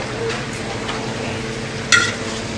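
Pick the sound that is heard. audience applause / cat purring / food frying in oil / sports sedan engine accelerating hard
food frying in oil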